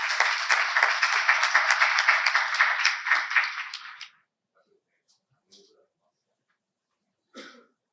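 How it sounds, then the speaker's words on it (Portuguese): Hearty applause for the honorees at an academic induction ceremony of Brazil's Academy of Terrestrial Military History, dense clapping filling a hall for about four seconds before cutting off, then a cough or two in the quiet. "Uma salva de palmas"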